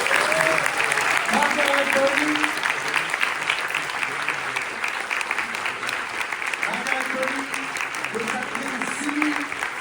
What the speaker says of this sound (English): vous allez tous les applaudir énormément